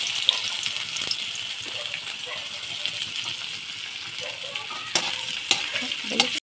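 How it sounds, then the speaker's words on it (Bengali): Chopped onion frying in a kadai, a constant bright crackling sizzle of hot oil with scattered spoon knocks and scrapes, a few louder clanks toward the end before it cuts off abruptly; no one speaks. "এবারে কড়ার মধ্যে দিয়ে দিচ্ছি কুচানো পেঁয়াজ"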